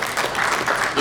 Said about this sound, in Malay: Jangan pula tuan-tuan tepuk tangan tadi kerana bangga.